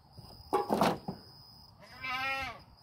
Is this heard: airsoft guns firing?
no